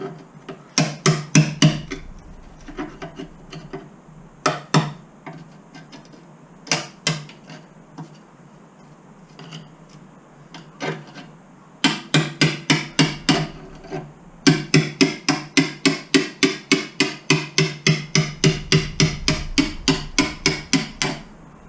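Sharp, repeated hammer blows ring out during a home restoration, scattered at first, then settling into long, steady runs of rapid strikes near at hand.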